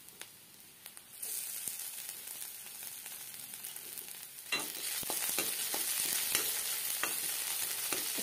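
Onions and ginger-garlic paste sizzle and fry steadily in a pan, a continuous hissing crackle that grows louder midway with occasional stirring clinks, close up with no talking.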